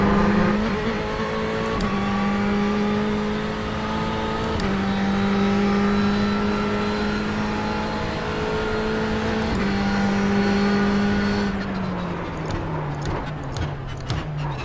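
A GTE race car engine in the iRacing sim drones loudly at high revs, stepping through gear shifts with pitch drops, then falls away on braking with sharp ticking clicks near the end.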